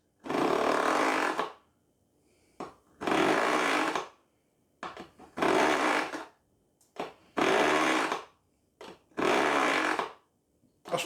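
A kitchen knife is drawn repeatedly through an AnySharp knife sharpener: five loud, rasping grinding strokes of about a second each, separated by short pauses with small clicks and taps.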